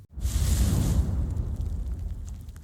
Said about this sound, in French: L'explosion est immédiate